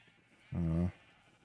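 A single sheep in a video game gives one short bleat, clear and close, standing alone against quiet game background.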